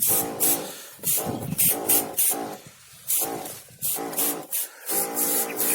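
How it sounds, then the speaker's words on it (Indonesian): A pesticide tank sprayer mists tomato plants in short repeated hissing bursts, about eight sprays with brief pauses between, close and clear. "kita langsung mulai semprot"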